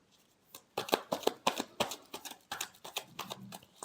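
Tarot cards are shuffled by hand in a quiet room, giving a series of short, crisp riffling and slapping bursts close up, each separated by brief gaps.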